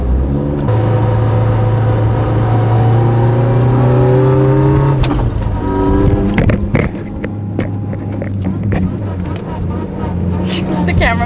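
A Mitsubishi Evo 8 RS engine drones loudly and steadily while driving, its pitch climbing under acceleration before dropping at a shift and rising again, with a few sharp knocks along the way.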